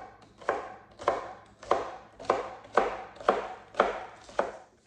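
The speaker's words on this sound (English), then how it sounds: "Now it's time to cut up my scallions." Scallions chopped with a knife on a board for a green bean casserole, about nine even, rhythmic, close thuds.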